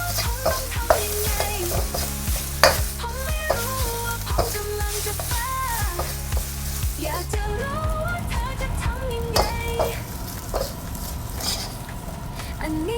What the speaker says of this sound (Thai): ก็เร่งไฟแรงแล้วก็ผัดอีกครั้งนะครับ